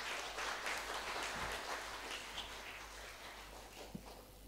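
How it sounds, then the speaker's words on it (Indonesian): Sustained audience applause at a national law seminar on human trafficking and terrorism, a dense steady clapping that fills the hall, fades slightly toward the end, and has no talk over it. "Kita berikan tepuk tangan."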